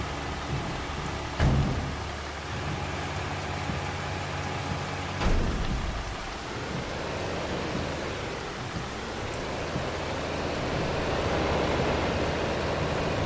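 Steady rain from the video game Farming Simulator 25, a broad continuous hiss that swells slightly toward the end, with two brief thumps early on and no talking.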